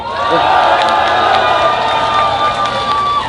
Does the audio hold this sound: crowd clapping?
yes